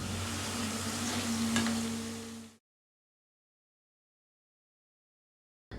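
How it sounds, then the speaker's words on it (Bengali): Shrimp frying in a pan, a steady close sizzle for about two and a half seconds, then cutting off abruptly into silence, with a short burst returning at the very end. "তো চিংড়ি মাছগুলোকে আমি একটু লাল করে ফ্রাই করে নেব।"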